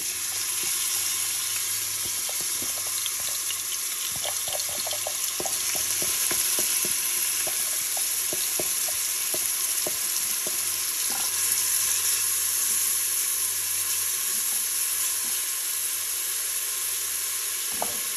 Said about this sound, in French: je vais rajouter mon oignon haché avec mes carottes et mes champignons